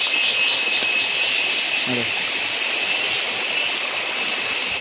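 Monsoon rainwater flows everywhere with a continuous rushing wash, steady and fairly close, with a faint brief voice-like sound in the middle.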